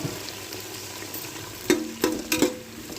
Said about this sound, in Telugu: మనం నూనె వేడిగా ఉంటే అన్నీ టకటక అయిపోతాయండి.